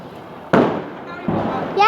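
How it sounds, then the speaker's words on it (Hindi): Diwali firecrackers go off on a rooftop, two sharp bangs a little apart followed by a crackle at the end, fairly close and loud over a low background hum. "वो पटाखे जला रहा है ऊपर, क्योंकि उसको ना पटाखे जलाने में बहुत मज़ा आता है"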